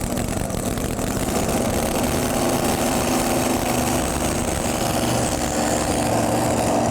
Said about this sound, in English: modified tractor, 1977 Ford 7710, 542 cubic inch Donovan, 417. Backs it in